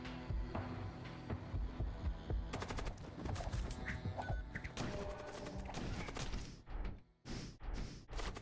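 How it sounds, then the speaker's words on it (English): Missiles fired from consumables strike a ship in the space game Void War, a dense barrage of rapid impacts and explosive bursts with sharp crackling hits, loud and continuous, ending in a few separated heavy blasts. "It's the missiles from the consumables."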